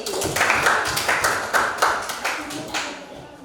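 A small group of pupils clapping in a classroom, a short rhythmic run of distinct, fairly close claps at an even pace that tapers off.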